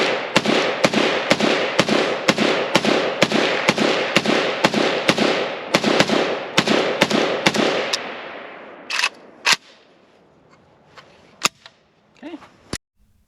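Romanian Nova CGR AK rifle at an outdoor range, a steady string of about twenty loud, evenly spaced shots, then a few scattered distant shots as the firing tapers off.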